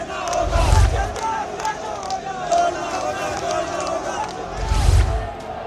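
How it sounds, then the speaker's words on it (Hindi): Hundreds of protesters crowding the streets of Shimla's Sanjauli suburb in a row over the building of a mosque: loud group shouts and chanted slogans rise and fall in surges, with a constant babble of voices in between. "सैकड़ों की भीड़ सड़क पर उतरी हुई है।"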